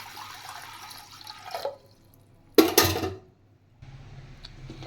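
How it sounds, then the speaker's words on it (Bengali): Water is poured into a pressure cooker for boiling lentils, arriving in short splashing bursts with gaps between them, the middle pour the loudest and closest, then a softer trickle. "পরিমাণ মতো জল দিয়ে দেব।"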